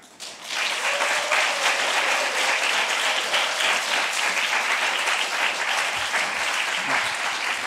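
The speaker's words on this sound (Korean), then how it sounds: "광주에서 이런 박수 못 받았다라고 하는 그런 큰 박수로 환영하도록 하겠습니다" A church congregation at a Wednesday worship service greets a visiting missionary speaker with loud, sustained applause that starts abruptly and stays dense and even for several seconds.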